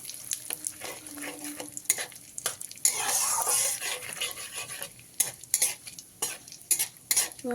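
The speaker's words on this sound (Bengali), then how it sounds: "ওই তেলের মধ্যে আমি তিন চারটে শুকনো লঙ্কা দিয়ে দিলাম একটা তেজপাতা তিনটে এলাচ তিনটে লবঙ্গ হাফ চামচ গোটা জিরে সামান্য পরিমাণ হিং দিয়ে ভালো করে ভেজে নেবো" Dry chillies, a bay leaf, cardamom, cloves, cumin and asafoetida frying in oil for a vegetarian chana dal, a close crackling sizzle broken by repeated metal spoon scrapes and taps against the pan.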